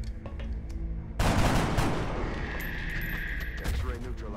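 Gunshots in the turn-based strategy game XCOM: Enemy Unknown: one loud broadband burst followed by a sustained rumbling, crackling report that slowly fades, with a faint voice underneath.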